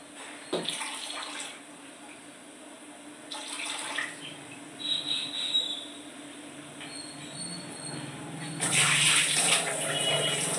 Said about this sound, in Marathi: त्यातलं मी पाणी ओतून घेते.